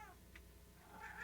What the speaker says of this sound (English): there's the cat again, yowling away.